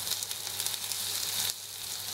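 Pancake batter sizzles steadily in a hot frying pan as the cakes brown to a golden color, a loud, continuous hiss with a slight drop partway through.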